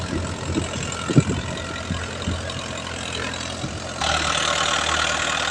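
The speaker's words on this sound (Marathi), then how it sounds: "या साईडला चालत आहे ट्रॅक्टर" A tractor pulling a seed drill while sowing grain in a field gives a steady, close engine drone throughout, growing noticeably louder and fuller near the end.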